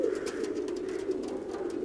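Pigeons coo softly in a low, rolling murmur, steady and continuous, close by with faint background noise.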